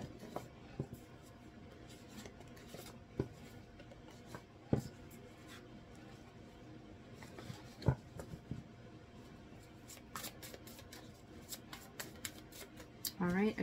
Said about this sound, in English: Let's get these cards shuffled back in